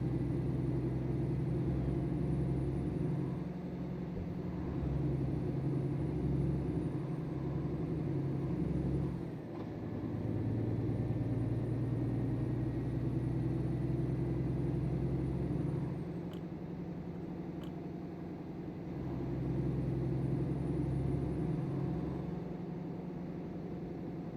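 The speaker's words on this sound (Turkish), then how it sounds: "Yani tırın sesi gerçeğe yakın gerçekten." A steady low Scania S500 truck engine in Euro Truck Simulator 2 drones on, with a high whine and occasional brake hisses, and no talking.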